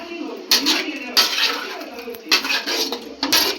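A kurma being stirred in a cooking pot, with a spoon clinking and scraping against the metal in several bursts, close and fairly loud over a low background hiss.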